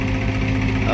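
A tractor engine idles with a low, steady throbbing hum, loud and close, in a very brief snippet.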